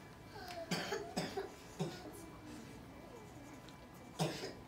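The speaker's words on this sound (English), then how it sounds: "I think I'm coughing and sneezing" Several separate coughs ring out in a quiet room, three close together, then a pause before one more.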